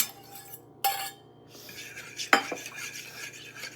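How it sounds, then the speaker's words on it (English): A utensil clinks and scrapes against a bowl while stirring Caesar salad dressing, with a couple of sharper taps over a soft background hiss. "And I'm gonna mix that together."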